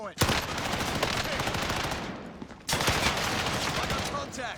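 Video game gunfire: two long, loud automatic bursts separated by a brief dip, with faint voices underneath.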